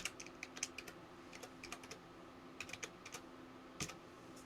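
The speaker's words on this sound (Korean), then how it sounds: "암호를 물어오면 암호를 입력하면 되겠습니다" A password being typed on a computer keyboard, with quiet, close key taps in uneven bursts and short pauses, plus a slightly louder keystroke near the end.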